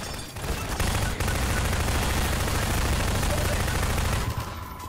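Rapid, sustained gunfire from the video game Half-Life 2 fills the whole stretch, dense overlapping shots loud and close, with a brief gap near the start before the barrage resumes and fades slightly at the end.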